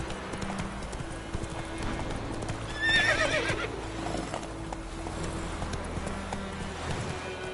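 Roach the horse gallops in The Witcher 3: Wild Hunt, steady close hoofbeats clip-clopping throughout with a short whinny near the middle, over constant game ambience.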